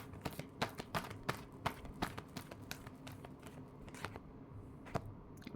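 Tarot cards are shuffled in quick, crisp bursts, a rapid series of close riffling taps and flutters, quiet and with no talking.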